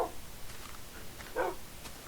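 Dogs in a kennel in Minecraft bark a few times, faint and brief yips scattered across a quiet moment.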